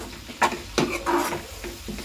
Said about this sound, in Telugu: కరివేపాకు, ఇవి చక్కగా వెల్లుల్లిపాయలు చక్కగా కలర్ షేడ్ వచ్చే వరకు వేపుకోవాలండి